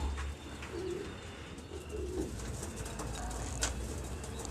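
Pigeons coo in a breeding loft holding some 20 to 25 pairs, with low, throaty calls rising repeatedly over steady background noise and no voices present.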